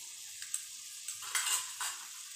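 Spiced masala for matar paneer stirred and frying in a pan, with a steady sizzle and scraping spoon strokes against the metal, close and alone without any voices.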